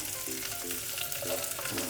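Sliced onions dropped into hot oil in a cooker, giving a continuous close, loud frying sizzle with faint stirring sounds underneath.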